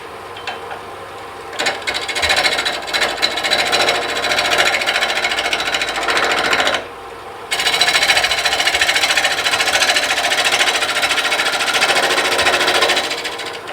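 A 5/8 detail gouge cuts a tenon into wood spinning on a lathe, giving a loud, steady broadband scraping hiss with a hum beneath. It drops away for a moment near the middle, then resumes just as strongly.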